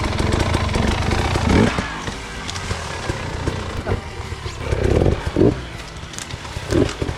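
Dirt bike engine revving in bursts while climbing a creek bank at an enduro riding clinic, the loud, rough motor rising and falling with throttle surges, close by and outdoors.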